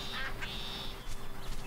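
A duck in a video game quacks a few short, nasal times over a steady background hum, clear and fairly close.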